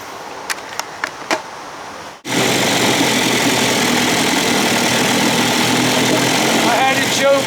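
A 1956 Evinrude 7.5 hp outboard motor starts after a brief pause and settles into a loud, steady run with a constant droning hum, a few sharp clicks preceding it.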